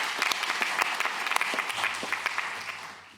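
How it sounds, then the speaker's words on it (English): Audience at a corporate governance conference in Luxembourg giving a round of applause for the speakers and panellists, dense steady clapping that fades out after about three seconds. "A round of applause again for the speakers."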